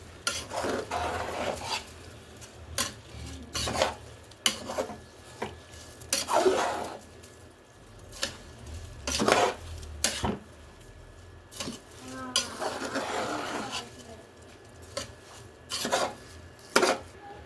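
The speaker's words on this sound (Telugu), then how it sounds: "రైస్ అన్నిటికీ మసాలా రొయ్యలు కలిపేలాగా కలిపేసుకోవాలి" Cooked rice being mixed with prawn masala in a pot for biryani, repeated scraping and stirring strokes in irregular bursts, close and moderately loud, with a faint background hum.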